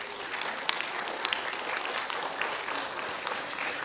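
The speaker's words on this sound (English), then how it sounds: "Let's give them a round of applause." Steady applause from a sizable crowd at a high school graduation ceremony, dense and sustained with a few sharper claps standing out, continuing evenly throughout.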